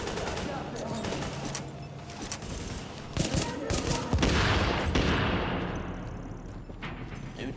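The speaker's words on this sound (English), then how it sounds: "Let's see how many we can kill with the pistol." Pistol shots in a tank video game, a scattered burst of sharp reports amid game noise and rumble, with someone talking over parts of it.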